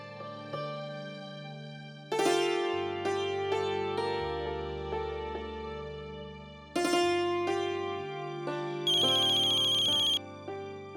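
A melodic phone ringtone plays loudly for several seconds, its tune repeating in phrases with a brighter high chime near the end, with no voices over it, in a Hindi family drama scene.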